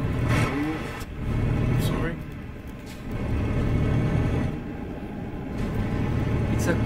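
Truck engine from Euro Truck Simulator 2 running steadily near Paris, with surging revs and a continuous mid-range drone, mixed with talking over it.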